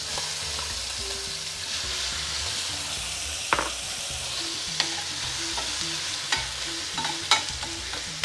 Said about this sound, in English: we want to just soften the onion